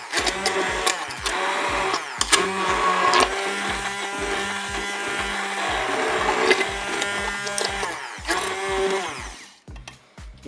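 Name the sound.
blender mixing cooked potatoes into purée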